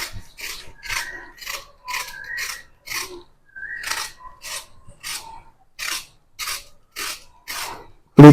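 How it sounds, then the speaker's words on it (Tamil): A peeler scrapes the skin off a carrot in a rhythmic series of about fifteen short, crisp rasping strokes, close and alone in a quiet room. "இப்படி தோலையும் சீவிக்கலாம்."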